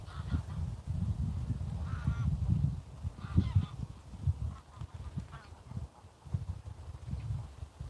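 Geese honk repeatedly at a pond among ducks and other birds, loud overlapping calls rising and falling in bursts close by.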